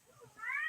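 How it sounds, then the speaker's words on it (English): An upset cat gives one short rising meow, close and fairly faint. "my cat's upset"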